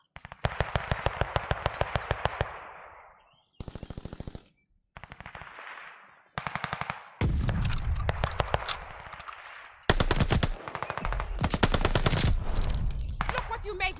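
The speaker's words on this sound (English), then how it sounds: "Friendly mortar fire coming." Friendly mortar fire in a Nintendo Switch video game lands as rapid, loud bursts of blasts and rattling gunfire, broken by short gaps and growing denser toward the end, with a voice talking briefly at points.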